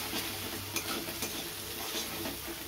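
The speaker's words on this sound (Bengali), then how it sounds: "ডিমটা আমি ঝুরি ঝুরি করে ভেজে নেব।" Egg frying in mustard oil in a kadai while being stirred and broken into crumbles, a continuous dense sizzle with soft scraping stirs, no talking.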